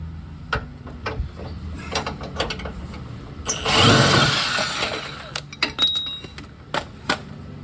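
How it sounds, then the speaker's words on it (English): Ratcheting clicks and metallic clanks from a wrench and impact gun working a stubborn bolt loose on a 2005 Mustang 4.0 lower control arm, with a louder burst of rattling mechanical noise in the middle and scattered sharp taps throughout, no talking. "I'm just gonna use the impact and this wrench to kind of work it out"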